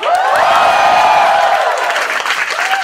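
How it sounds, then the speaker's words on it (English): Loud, sustained audience applause and cheering for comedian Vir Das at a live comedy show, a dense wash of clapping from a large crowd. "Special applause for Veer Das"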